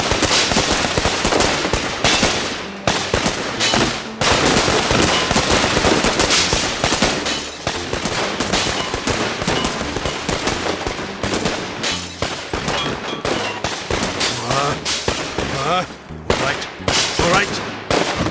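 Dense rapid gunfire from the Overblood 2 video game, loud and continuous bursts of shots packed with game music and effects, with no speech over them.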